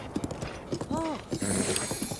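A horse's hooves clip-clop in steady rhythm while riding in The Legend of Zelda: Breath of the Wild, with a brief whinny partway through and someone talking over it.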